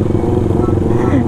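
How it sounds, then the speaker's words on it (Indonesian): Kawasaki ZX25R motorcycle engine hums loud and steady at close range, a continuous buzzing drone under nearby chatter. "Geber, geber aja, Mo."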